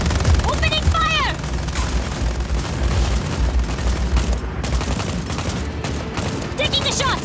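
Dense, continuous gunfire and booming blasts from the Just Cause 4 video game roll on without a break, loud and close, with a brief voice heard early on.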